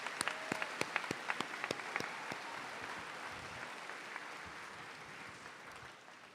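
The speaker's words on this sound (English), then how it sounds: "Please give them a round of applause." At an 8th grade commencement ceremony, a few sharp individual claps open, then the audience applauds for the school band and orchestra, settling into a soft, even patter that gradually fades.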